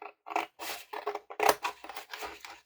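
Paper being cut with scissors during a folding craft, a run of about eight short, close snipping bursts with brief gaps between them, crisp and alone with no talk.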